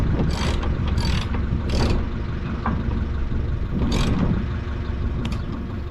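A ratchet wrench turns a bolt while new bearings go into a crumbler, with bursts of clicking ratchet strokes in short runs over a steady mechanical background hum, close and fairly loud.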